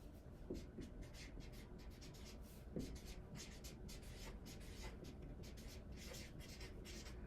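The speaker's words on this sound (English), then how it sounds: "Let me write this down." A pen writes notes by hand on paper: faint, close, scratchy strokes repeating in short irregular bursts against a quiet background, with no talking.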